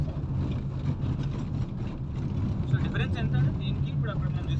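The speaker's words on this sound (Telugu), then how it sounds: "స్కూటీలు వెళ్తున్నాం." Scooters ride along a road by a gated plot development in Narayankhed, Sangareddy, near Hyderabad, giving a steady, continuous engine drone under ongoing talk.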